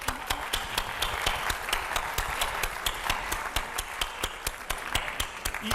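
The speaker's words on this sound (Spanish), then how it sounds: "Un aplauso para él" A theatre audience at a Spanish-language comedy show applauds a man called Mr. Maudi as he stands, a dense, even wash of many hands clapping close and loud for the whole stretch.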